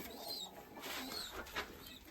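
A young pigeon coos softly in a few low, burbling phrases, close but faint, with light rustling in the background.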